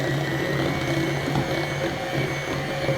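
Cream cheese and marshmallow cream beaten together with an electric mixer for a homemade fruit dip, a steady close whirring motor hum with no talking.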